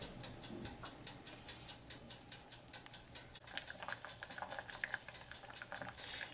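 Ramen broth with an egg in it boiling in a pot, giving a steady bubbling patter with small ticking pops throughout, close and moderately quiet.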